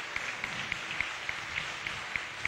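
A church congregation claps for the Holy Spirit, a steady patter of many hands heard fairly faint and distant in a large room, with rhythmic sharper claps poking through.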